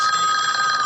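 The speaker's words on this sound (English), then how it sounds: "That's the phone." An electronic telephone ring sounds steadily and loudly throughout, a continuous warbling tone with no voices over it.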